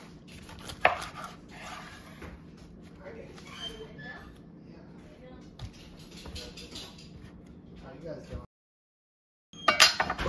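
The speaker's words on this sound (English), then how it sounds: "I think I'm gonna slice them a little bit more so they can fit into my blender" A kitchen knife slices through pineapple on a cutting board in repeated close, crisp cuts with soft thuds, uneven in rhythm, while a person talks intermittently over the work.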